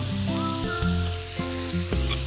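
Meat sizzles steadily in a hot pan over medium-high heat on a cooking show, a constant loud crackling fry with no talking.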